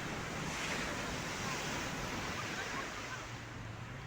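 Surf at Varkala Beach in Kerala, a continuous close wash of breaking waves and rushing water with wind rumble against the microphone, easing slightly toward the end.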